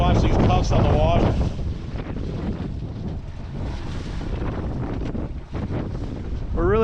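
Strong 40-knot wind gusts buffet a sailboat anchored in a snowy high-latitude blizzard, a loud continuous roar with heavy microphone buffeting throughout and a brief voice fragment at the end.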